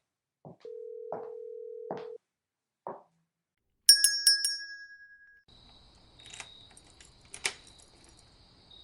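A telephone call being dialed in a Halloween horror audio drama, with short keypad tones, a held dial tone, then a burst of bright electronic beeps and clicks, all close and clear with no talking.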